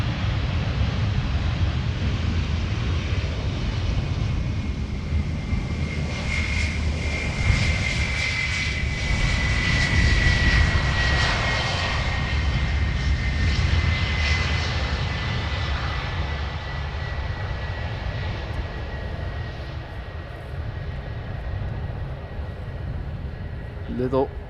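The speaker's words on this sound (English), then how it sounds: "And the Turkish Airlines A321 over here." Turkish Airlines Airbus A321 airliner passing near Amsterdam Schiphol Airport, a steady roaring engine rumble with a rising and falling whine as it goes by, under wind noise and a speaking voice.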